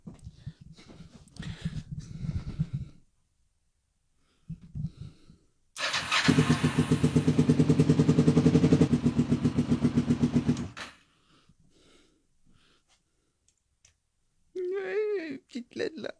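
A Kawasaki 500 street tracker motorcycle engine fires up in a garage and runs loud and close for about five seconds with a rapid pulsing beat, then cuts out; someone talks before and after.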